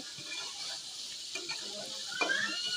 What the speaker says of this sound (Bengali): মাংসটা ভালোভাবে কষিয়ে নেব।